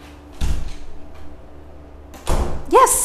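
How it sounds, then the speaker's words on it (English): A door creaks and clunks as it is eased open a little at a time during dog stay training, with a couple of soft thuds followed by a short high squeak near the end. "Now I'm going to start cracking the door open."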